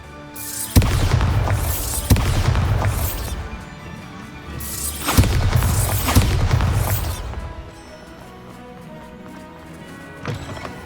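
Bombarda blasting spells in the video game Hogwarts Legacy set off explosions: two heavy booming crashes with rumbling debris, each followed by decaying rubble noise, then a quieter tail.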